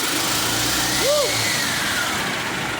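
Yamaha utility cart engine running steadily after being started with the choke on, a continuous mid-pitched drone with a brief whoop of a voice partway through.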